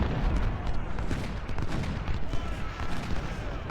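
Rifle volleys from Civil War infantry in Ultimate General: Civil War at the Battle of Antietam, heard as a dense, continuous crackle of massed gunfire that rolls on without a break and carries no speech.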